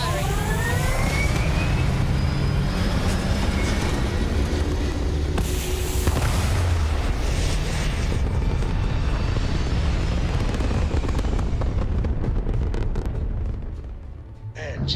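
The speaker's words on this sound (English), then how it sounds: "All thrusters firing." Spaceship thrusters roaring during takeoff in Starfield, a loud, sustained low rumble that holds steady before fading away toward the end, with talk over it.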